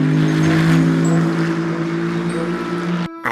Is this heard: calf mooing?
no